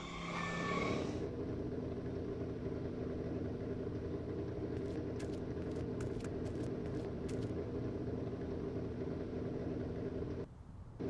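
In Back to the Future: The Game the car's engine gives a steady, idling rumble. After a brief burst at the start, a few short high beeps fall in the middle and the sound cuts out briefly near the end.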